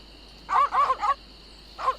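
Dogs bark in the Secret of Monkey Island video game: a quick burst of three yapping barks, then a short pause and one more bark, clear and fairly close over a faint steady hum.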